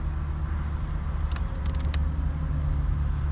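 A 2005 Honda Accord engine running at a steady low idle, a constant deep hum close by, with a brief cluster of light metallic jingles partway through.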